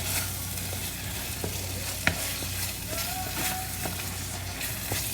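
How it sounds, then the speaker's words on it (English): Diced tomatoes being stirred into sizzling pepper chicken masala: a steady frying sizzle runs throughout, with intermittent scraping and clinking of a utensil against the pan, close and moderately loud, with no talking. "Let's add in our diced tomato and then give it a nice mix."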